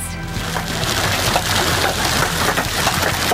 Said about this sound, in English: That's hail hammering the concrete in Norfolk, Nebraska.